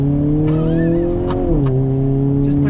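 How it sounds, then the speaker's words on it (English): A 2022 Hyundai Kona N performance SUV accelerates in first gear, its engine note climbing loud and steady, dipping briefly as it shifts, then droning on with faint tire noise. "On throttle, here we go."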